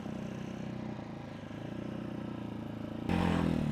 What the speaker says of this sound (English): This motorcycle I'm riding is number 68.